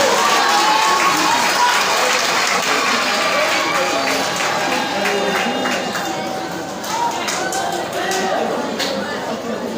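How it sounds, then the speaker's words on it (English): An audience applauds at a school founder's day and gala award night, broad steady clapping mixed with crowd chatter and a speaking voice, filling the room throughout. "let's clap for the coppers, please."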